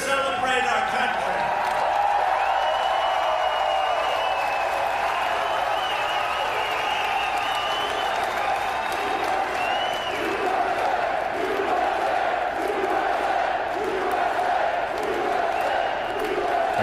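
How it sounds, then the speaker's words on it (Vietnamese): A large rally crowd at Manchester-Boston Regional Airport cheers and chants "USA" in a sustained, loud roar, with rhythmic group shouting running through the whole stretch. "Đám đông đang reo hò chữ Root USA."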